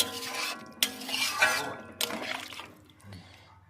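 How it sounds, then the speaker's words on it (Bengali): Water is poured into a pan of Bengali fish curry with potato and bori and stirred, making close splashing, sloshing and scraping against the pot, with a couple of sharp clinks and a fading trickle at the end. "এবারে আমি পরিমাণ মতো জল দিয়ে দিব। একটু নাড়াচাড়া করে দিতে হবে।"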